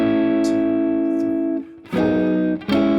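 Electric guitar playing the chorus of a song, sustained ringing chords with a couple of sharp chord changes and brief pauses, close and fairly loud, with no talk.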